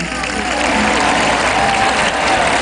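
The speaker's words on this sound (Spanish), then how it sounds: "Aplauso" Sustained audience applause fills the hall at a political broadcast honouring a Puerto Rican independence figure, steady dense clapping from a large crowd throughout.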